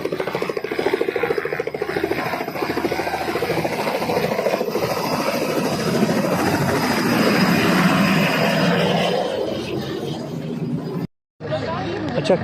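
A helicopter carrying a bride and groom to a wedding in Barmer runs with a loud, steady engine and rotor drone. Voices are heard beneath it, and the sound drops out briefly near the end.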